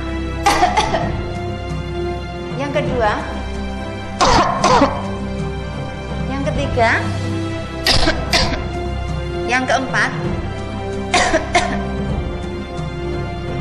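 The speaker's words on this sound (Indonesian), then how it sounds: "Berikut ini adalah cara-cara batuk yang salah." A series of deliberate coughs demonstrating incorrect ways to cough, one or two at a time with pauses between, as a voice counts off each one in between.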